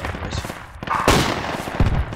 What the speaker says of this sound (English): Just firing for fun